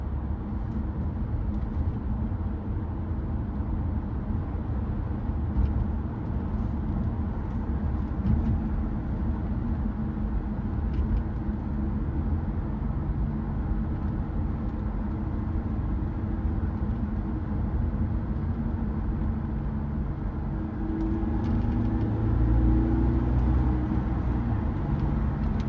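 A black 1994 Acura Legend GS with a six-speed gearbox cruises a country back road in Washington, a steady low engine drone and road rumble heard from inside the cabin, with a brief swell near the end.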